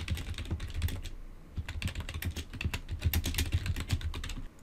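Rapid, steady keystrokes on a computer keyboard, close and crisp, with a brief pause partway through and no talking.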